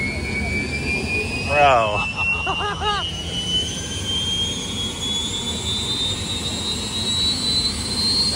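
Jet turbine engines on a racing boat spool up at startup, a loud rising whine with steadily climbing tones over a rumbling roar, while nearby people talk briefly over it.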